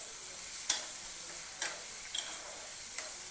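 Egg bhurji sizzles steadily in a pan while a spatula stirs it, giving a few sharp scraping strokes over the continuous frying hiss, close and alone without speech.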